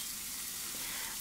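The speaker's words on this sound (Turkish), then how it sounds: "Tavamızda zeytinyağında iki taraflı tavuk göğüslerimizi bu şekilde kızartalım." Chicken breasts fry in olive oil in a pan, a steady, close sizzling hiss that holds evenly through a short moment with no talk.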